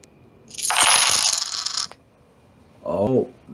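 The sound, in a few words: Cash App donation notification sound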